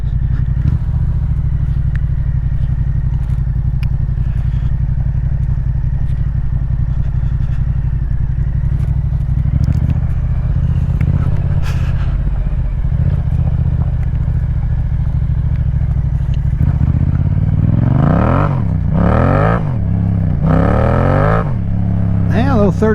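A Yamaha MT-07 motorcycle with an aftermarket pipe drones steadily while ridden, shifting pitch as it accelerates through gears near the end, loud and continuous, with wind noise.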